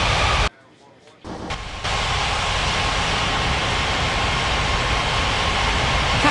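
An airliner lands in an air traffic control game with a broad, roaring engine rush that briefly drops out near the start and then holds steady and loud to the end.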